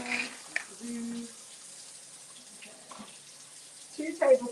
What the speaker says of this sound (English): 2 tablespoons of water into each of these.